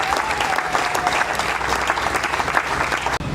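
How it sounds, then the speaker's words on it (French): Audience at a political gathering applauding loudly and continuously, dense clapping that holds steady before cutting off abruptly near the end. "nous pouvons applaudir pour elle encore très fort"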